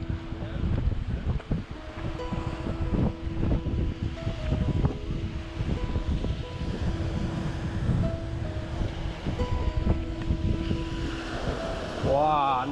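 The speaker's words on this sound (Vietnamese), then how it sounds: "sóng biển mấy chỗ này nó đập mạnh lắm này" Strong sea waves pounding a French shoreline, a loud, constant churning roar mixed with gusty wind buffeting the microphone, rising again near the end.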